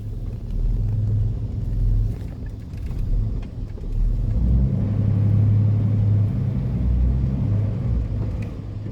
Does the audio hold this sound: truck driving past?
yes